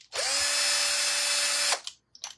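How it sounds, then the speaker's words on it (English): A power drill fitted with a 3/8 inch bit bores into a wooden craft block, a loud steady whine lasting about a second and a half, then a couple of brief lighter bursts as it winds down. "I needed to find a 3/8 inch drill bit, okay, and drill a hole in the top of my block"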